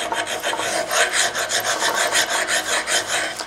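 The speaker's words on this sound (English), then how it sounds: "So what this file is going to do is make this flat and straight and true." A hand file rasps across a beveled steel test plate in steady back-and-forth strokes, about a dozen rhythmic scraping passes, close and clear with no talk.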